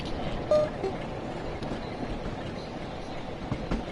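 A diesel train running in the Train Sim World 5 simulator, a low steady engine rumble with rail noise, moderately loud and continuous.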